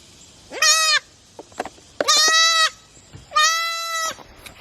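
A baby goat following along on a farm gives three loud, close bleats, each about half a second long with short pauses between, alone with no talk.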